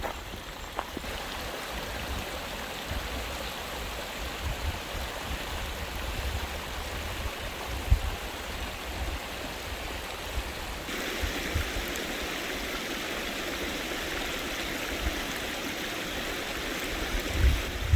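Hot spring water pours steadily out of its source on a hillside, a constant close rushing and splashing with no voices.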